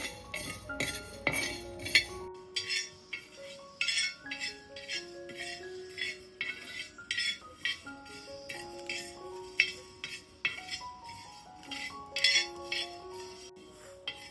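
Coriander seeds dry-roast on a tawa as a metal spatula stirs and scrapes them, giving repeated clinking taps and scrapes in an uneven rhythm, close and moderately loud, with no voices.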